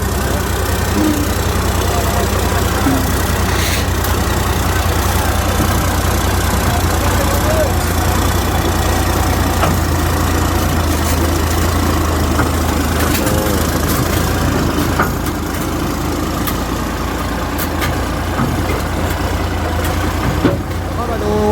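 A Kubota combine harvester's engine runs continuously with a steady, fairly quiet low drone and mechanical hum, close by and unchanging for a long stretch, while people talk over it.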